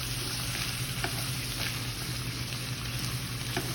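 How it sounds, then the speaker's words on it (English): Meat sizzles steadily in a hot pan, a close, continuous crackling hiss with occasional sharper pops and no voices. "I need to stir my meat again because I hear it sizzling over here"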